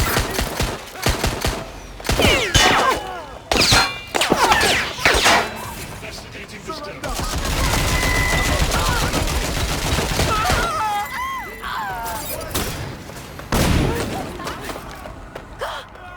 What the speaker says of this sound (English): Somebody got the shots fired!